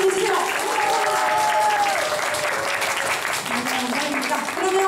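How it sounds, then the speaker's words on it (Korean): Concert audience applauds steadily throughout at a live band show, a dense, loud wash of clapping with some cheering voices mixed in. "우리 음향 조명 봐주시는 관계자들 분들께 박수 한번 주세요."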